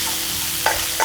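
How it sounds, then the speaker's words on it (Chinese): Chili sauce stir-fried in a pan, a loud continuous sizzle with two quick scraping strokes of the spatula near the end. "炒出香味来就可以关火了"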